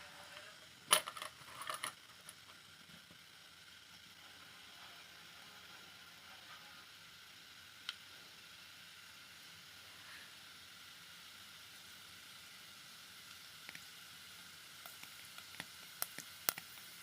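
Mustard, fenugreek and cumin seeds sizzle in hot oil with a faint, steady hiss, broken by a few sharp pops and clicks near the start and end.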